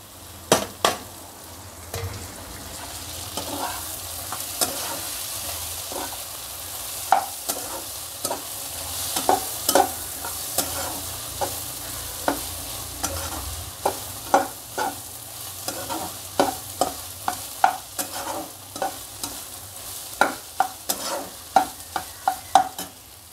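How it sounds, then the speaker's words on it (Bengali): Noodles stir-fried in a pan with capsicum and onion, giving a steady sizzle broken by repeated sharp scrapes and clacks of stirring that grow more frequent toward the end, close and alone. "ভাজা ভাজা হয়ে গেছে ক্যাপসিকাম আর পেঁয়াজটা। এইবার নুডলসটা অ্যাড করে দেব।"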